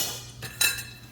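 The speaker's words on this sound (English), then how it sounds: "Stir it around." A spoon works chopped parsley through crawfish etouffee in a pot with a few faint clinks and scrapes against the metal, two brief louder knocks standing out in an otherwise quiet moment.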